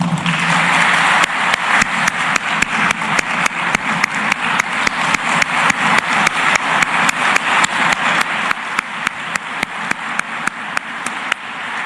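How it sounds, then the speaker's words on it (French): An audience at a university gathering claps in unison, a loud, even, rhythmic beat of about four claps per second that continues without a break. "recevez, au-delà des applaudissements, un standing ovation de votre UNIFA"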